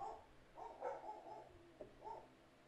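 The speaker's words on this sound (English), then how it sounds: "Dogs, stop barking." Several household dogs bark intermittently in another room, faint and muffled, with a few yips and short barks spaced across the stretch beneath quiet room tone.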